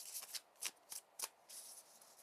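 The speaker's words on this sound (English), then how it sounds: "Another quick shuffle." Tarot cards are quickly shuffled in a few soft, crisp riffling bursts, close and quiet, with no talking.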